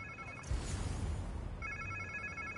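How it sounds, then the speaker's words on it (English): A phone rings in the Spider-Man video game, a clear electronic trill that repeats in two bursts with a short gap between them, heard alone. "Sounds like somebody's phone."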